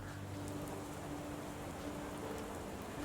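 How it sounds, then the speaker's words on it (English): Steady rain falling outdoors in the Sherlock Holmes: The Awakened video game, a continuous even hiss of drops with a low hum beneath it, with no voices. "It's raining outside."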